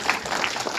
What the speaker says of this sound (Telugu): ఒకసారి స్వప్న కోసం క్లాప్స్